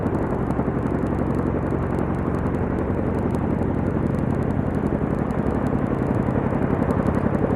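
Chinook helicopters lowering M777 howitzers during an air force exercise at Pokhran produce a steady, heavy rotor and engine roar, broadband and unbroken, with no voices.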